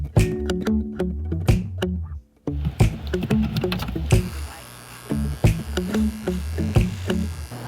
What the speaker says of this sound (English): Figures about time to shave my neck beard.